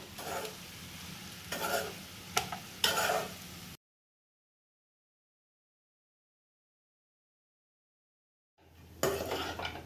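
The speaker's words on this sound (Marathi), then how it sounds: "आता यात आपण पोहे घालून घेऊयात. सगळं मिक्स करूया." A utensil stirs and scrapes poha into a turmeric tempering in a pan with soft sizzling, a few sharper clinks, then a long silent gap before stirring resumes near the end.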